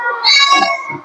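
A single drawn-out meow, close and loud, with a rising then falling pitch; it may be a person imitating a cat during a Sundanese stand-up comedy set.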